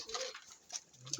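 Pet pigeons coo softly outdoors, a few faint low coos and rustles spread through a short, quiet stretch with no talking.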